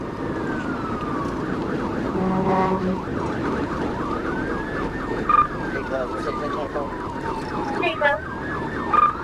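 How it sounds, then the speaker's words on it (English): A police siren wails loudly and continuously during a police chase, sweeping up and down in pitch over road and engine noise, with a few short bursts and brief radio chatter, heard from a dashcam. "closed in on the vehicle with lights and sirens activated"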